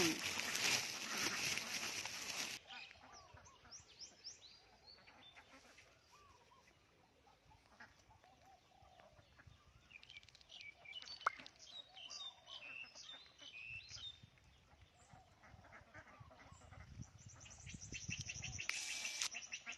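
Outdoor birds, including mynas, chatter and call in scattered bursts over a quiet background, with duck-like quacks mixed in and a rustling burst near the start.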